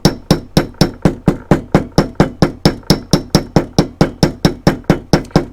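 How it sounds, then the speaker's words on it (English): A mallet taps a copper rivet during hand peening, a fast, even series of sharp metallic knocks, roughly four per second, close and crisp with no talk. "we'll take our mallet and tap it"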